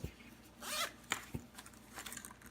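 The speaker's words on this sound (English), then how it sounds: "Zipper." A zipper is pulled on a carrying bag in a few quick rasping bursts, close up and fairly quiet, with no talking.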